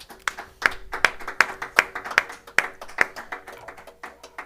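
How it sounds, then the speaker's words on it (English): A few people clap after a songwriter concert, sparse and fairly quiet, with distinct individual claps in an uneven rhythm rather than a full ovation. "let's give them one more round of applause."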